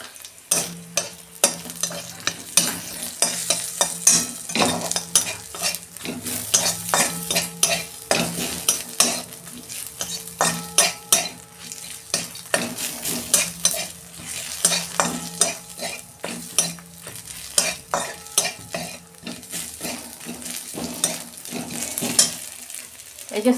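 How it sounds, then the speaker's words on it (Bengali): Five-spice tempering in hot oil for red amaranth greens, a close, busy sizzle under frequent scraping and clinking of a spoon stirring in the pan. "আমি 5 ফোড়ন দিচ্ছি।"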